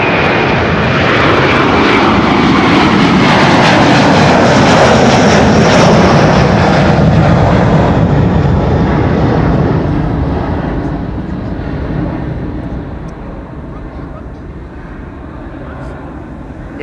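A Delta Airlines jet departing Amsterdam Schiphol on runway 24 for Minneapolis roars loudly and steadily at first, then its engine noise slowly fades as it climbs away.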